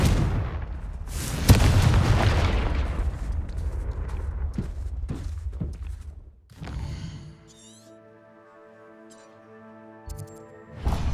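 Confringo fire spell blasts in Hogwarts Legacy, a loud booming explosion with crackling bursts for several seconds, then fading into quieter game tones and chimes.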